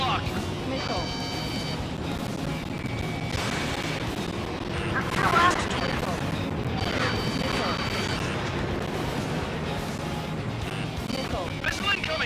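Bursts of aircraft cannon and gunfire from an air battle in Ace Combat 7, rattling in a few clustered volleys amid loud engine roar and crashes, with voices talking over much of it.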